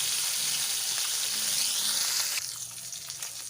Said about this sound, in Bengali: মাছগুলোর এক পিঠ ভাজা হওয়া পর্যন্ত কিছুক্ষণ অপেক্ষা করব।